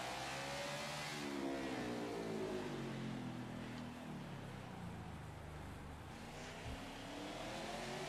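A NASCAR stock car in NASCAR 21: Ignition at COTA races and accelerates, its engine pitch sweeping up and down steadily as it slides and gets back on the gas, a constant moderate roar.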